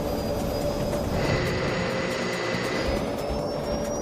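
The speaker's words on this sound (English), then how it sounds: "the pilots begin their takeoff roll" Turboprop airliner engines roar at full power during the takeoff roll, a dense steady rumble with a high whine running through it, loud and continuous without speech.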